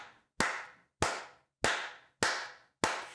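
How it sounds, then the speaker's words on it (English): Six sharp, evenly spaced single claps, loud and close with a short decay after each, from someone applauding after an episode of the Halo series. "Let's give him a clap"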